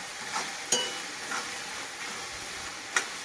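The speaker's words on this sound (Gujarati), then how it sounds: "ડુંગળીને એવું આપણે અત્યારે શેકાવા મૂકી દીધું છે લસણના આદુનો પેસ્ટ નાખી દીધો છે" Onions with garlic-ginger paste sizzle steadily in a pan, a soft continuous frying hiss with a few brief louder clicks and stirring scrapes scattered through it.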